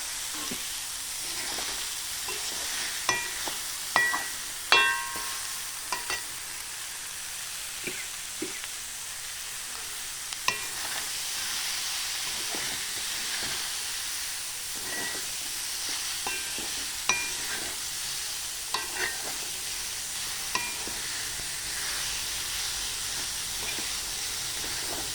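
Tomatoes sautéed on high flame in a pan give a continuous hissing sizzle, broken by scattered sharp clicks and scrapes of stirring throughout.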